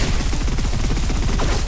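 Rapid automatic gunfire from the sci-fi shooter Snowbreak: Containment Zone, a steady stream of close, punchy shots for the whole burst with no pauses and no voices.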